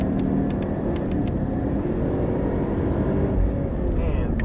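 A car accelerates out of a corner on track, a steady loud engine drone with rising pitch heard from inside the cabin.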